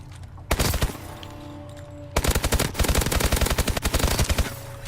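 The SN-6 gun in Call of Duty Advanced Warfare fires fully automatic, a short burst followed by a longer steady stream of rapid, loud, closely spaced shots.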